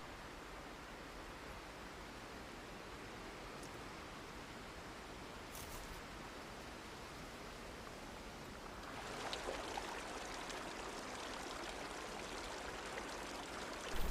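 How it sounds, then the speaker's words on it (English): Gentle waterfall trickling down a steep slope in penguin habitat, a steady soft wash of water that grows slightly louder and brighter near the end, with no voices. "A gentle waterfall en route looks like an oasis."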